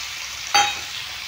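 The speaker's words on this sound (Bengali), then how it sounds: "ছোলাটা দিয়ে দিলাম।" Chickpeas drop into a hot frying pan, giving a sudden burst of sizzling that swells and then settles into a softer, steady frying hiss.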